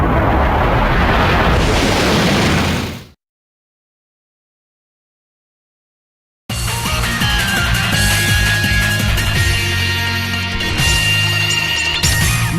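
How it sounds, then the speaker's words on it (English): A loud burst of noise erupts in the Mega Man Maverick Hunter X game, cuts to total silence for a few seconds, then returns as a dense blaring wash of game sound with tonal effects. "My explosion is beautiful."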